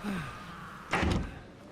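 A door shuts in the horror video game Outlast 2, a single dull thunk with a short rumbling tail after a quiet stretch of faint low ambience.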